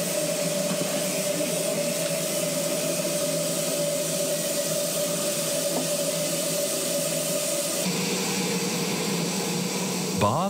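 A steam locomotive in Australia hisses steam in a loud, steady rush with a sustained whistling tone, heard close; the hiss shifts near the end, and a voice speaks over part of it.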